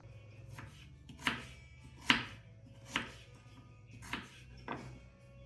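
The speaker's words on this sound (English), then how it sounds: "we need to peel and slice these onions" Onions being sliced on a cutting board, a knife striking the board in six evenly spaced, fairly crisp chops over a quiet background hum. No one speaks.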